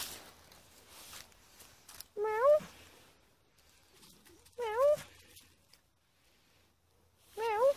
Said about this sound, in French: Miaou. Miaou. Il communique très très bien ce chat.